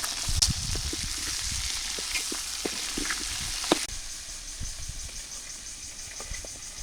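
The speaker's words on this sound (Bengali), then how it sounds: "এই এখন আমি আলু ভেজে নিব আলু দিয়ে দিলাম" Salted potato pieces fry in oil in a village kitchen with a soft, steady sizzle and a few light scraping taps from stirring, while a faint insect-like hiss runs in the background.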